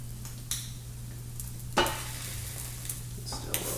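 Scrambled egg, still slightly runny, sizzling steadily in a pan, with a few scraping stirs and light utensil taps over the constant frying hiss; no one talks.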